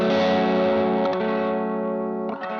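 Electric guitar runs through an Earthquaker Devices Dunes, a TS808-style overdrive pedal, striking one thick, gritty chord that rings out and decays, then a couple of light pick attacks near the end, solo and close.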